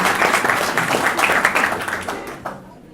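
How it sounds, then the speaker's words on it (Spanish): An audience at a biochemistry conference applauds a doctor after her talk, a burst of dense clapping that thins and fades out over a few seconds. "un aplauso para la doctora Perazzi que nos trajo"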